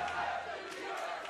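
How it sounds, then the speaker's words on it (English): A large esports arena crowd at an LCS match, Cloud9 versus TSM, chants TSM in a dense, steady roar of many voices that carries through the whole moment with no break. "the TSM chants begin"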